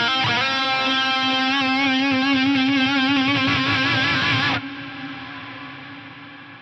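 Electric guitar run through a delay-into-reverb morph patch, sustained distorted notes with repeating echoes that swell into a washy reverb tail, cutting off sharply near the end and leaving a fading ambient decay.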